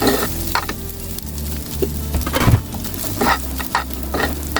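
Pulao rice for vegetable fried rice is stirred in a pan, with irregular scraping stirs and rustles over a continuous sizzle, close by and without talk.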